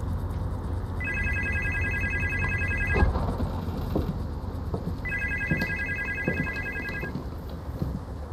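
A telephone rings in the video game Supernormal, two bursts of bright electronic trilling each lasting about two seconds, set over dense background game noise and occasional thumps.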